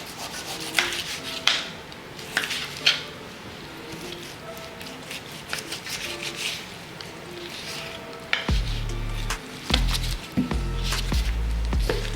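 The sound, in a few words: knife trimming fat off oxtails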